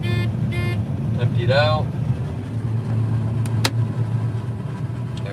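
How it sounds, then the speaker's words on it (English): A combine harvester's engine holds a steady low drone as it throttles down, with speech and brief tonal sounds heard over the hum. "Just about empty, so we're going to throttle down."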